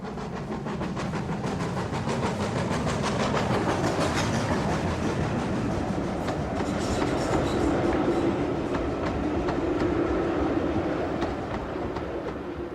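A Great Western Railway steam locomotive runs steadily nearby on the Llangollen Railway, its wheels and chuffing forming a continuous, rumbling rhythm that holds at a steady loudness throughout.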